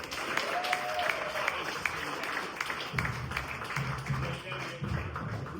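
Audience applause and scattered cheers for a comedian at a clean stand-up comedy show, a steady wash of clapping with a host's voice talking over the second half.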